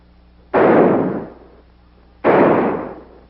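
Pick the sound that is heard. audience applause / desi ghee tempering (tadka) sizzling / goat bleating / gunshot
gunshot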